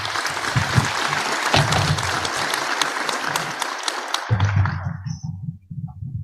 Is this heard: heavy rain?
no